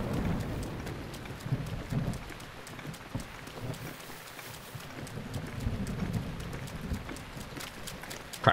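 Thunderstorm in the Legend of Zelda: Breath of the Wild, with steady rain hiss and low rolling thunder rumbles swelling and fading throughout, with a sharper crack near the end.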